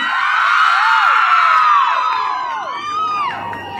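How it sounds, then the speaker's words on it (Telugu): Audience at a Jabardast comedy skit event in Machilipatnam cheering, with high shouts and screams from children rising over a crowd roar, loud at first and then easing slightly. "మీరు అందరూ గట్టిగా చప్పట్లు కొడితే మన స్కిట్ లోకి వెళ్ళిపోదాం."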